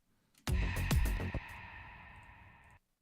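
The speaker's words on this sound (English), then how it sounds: "We could put a little reverb on it." A few heavy musical hits with reverb added, followed by a long, shimmering reverberant tail that hangs in the air before cutting off abruptly.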